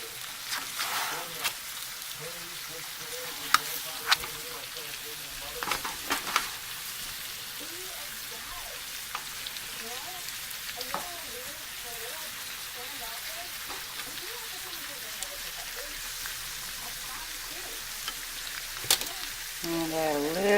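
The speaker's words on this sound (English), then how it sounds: "Get all the potatoes in, and I'm just turning them gently." Potatoes frying in a pan for home fries while being gently turned: a continuous soft sizzle with occasional scraping clicks and spatula knocks, with a person talking over it at times.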